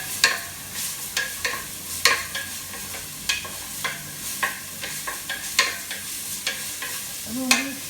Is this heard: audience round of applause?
no